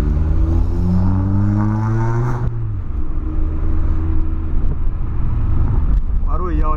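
A repaired Volkswagen Polo's engine revs up loudly and close, its pitch climbing steadily before dropping back into a rough, continuous rumble, with people talking over it throughout.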